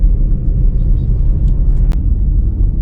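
Auto rickshaws and cars wait in a line at a CNG filling station, their engines producing a loud, continuous low rumble nearby with a brief sharp knock partway through.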